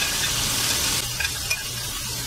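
Onions frying in a pan, a loud, dense close-up sizzle that eases slightly partway through, with faint stirring scrapes.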